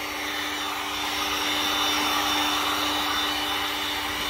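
A blow-dryer-like heat tool runs steadily over freshly sprayed clear coat on a car panel, a continuous close whirring blow with a fixed hum, loud and unbroken throughout with no talking.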